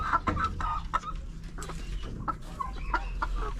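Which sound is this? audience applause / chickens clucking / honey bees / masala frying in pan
chickens clucking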